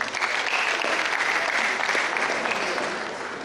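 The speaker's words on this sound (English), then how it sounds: "Round of applause." An audience at a university seminar applauds as Dr. Bolaiwa is brought up to speak, a loud, steady stretch of clapping that begins fading slightly toward the end.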